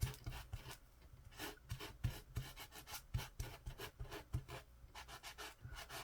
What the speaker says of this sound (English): So I'm going to get out my sanding